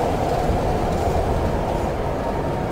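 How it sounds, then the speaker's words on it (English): A tram ride in the Riven video game, a loud, steady rumbling rattle with rail-like shuddering and creaking that carries on without a break. "the shuddering doesn't bother me so much as the creaking and cracking as you ride this thing"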